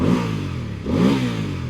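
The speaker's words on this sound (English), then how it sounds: "let's listen to the engine." Engine of a VOGE DS900X adventure motorcycle idling and being blipped, a steady low rumble that swells twice, close and alone with no talk.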